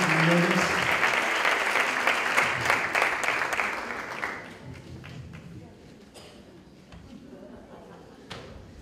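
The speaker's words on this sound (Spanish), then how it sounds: "Un aplauso para nuestra reina" Applause at a tribute concert: a dense burst of clapping that fades gradually to scattered claps, with voices under it.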